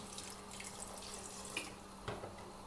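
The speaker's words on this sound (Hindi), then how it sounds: "इसमें आप अब 1 गिलास पानी डाल के इसको आप प्रेशर लगा दें" A glass of water pours into a pressure cooker holding mutton and fried tomatoes, a faint steady trickle with a couple of small splashes and no voices.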